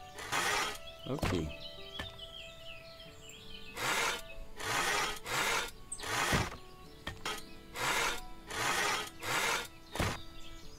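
Repeated strokes of a saw cutting wood in the farming game Everdream Valley, about eight rhythmic rasping bursts separated by short pauses, close and fairly loud over a soft ambient background with faint birdsong.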